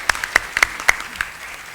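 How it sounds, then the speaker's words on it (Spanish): Audience at a civil procedural law panel clapping for a speaker, a short burst of sparse, separate hand claps in a hall that fades quickly. "Un aplauso para el expositor, por favor."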